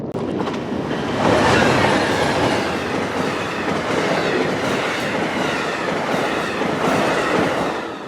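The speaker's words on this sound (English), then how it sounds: "Amtrak train P092, the northbound Silver Star." Amtrak's northbound Silver Star passenger train rumbles past up close in Miami, Florida, loud and continuous, with rhythmic clickety-clack of wheels on the rails and a faint squeal.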